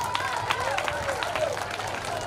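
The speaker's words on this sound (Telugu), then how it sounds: "గట్టిగా చప్పట్లు." An audience applauds at a school alumni reunion, a steady wash of clapping that stays level throughout, with a voice audible over it.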